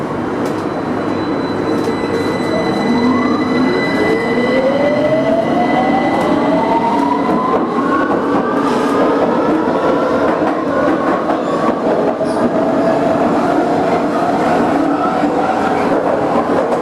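Electrostar electric train accelerating, its traction motors pulsing with rising whining tones that sweep upward over steady rumbling wheel and rail noise, loud and continuous throughout with no talk.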